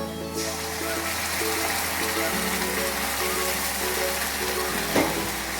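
Masala spice paste with ginger paste and salt frying in a pan for a potato and pointed gourd curry, giving a steady, close sizzle with occasional stirring scrapes.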